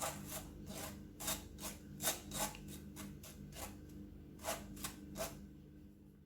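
Milk powder dough for gulab jamun being mixed by hand in a bowl, with a rhythmic series of soft, gritty rubbing strokes, fairly close and quiet, with no voices.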